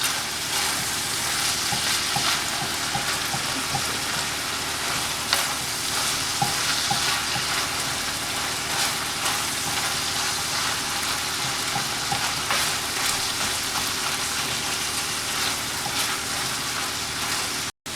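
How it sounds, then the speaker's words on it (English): Taco meat frying in a pan, a dense, constant loud sizzle over a long stretch with repeated scraping and clicking stirs of a utensil throughout, close up and with no talking. "we're just going to stir it until all the meat is cooked"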